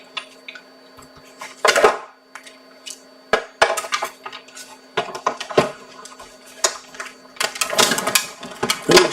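Large die-cutting machine running on a crafting table while cutting card stock, rattling the table: close, irregular bursts of clattering and knocking, with uneven pauses between them.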